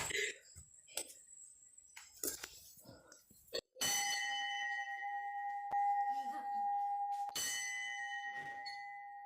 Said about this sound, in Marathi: हे भावीन घंटी वाजव ना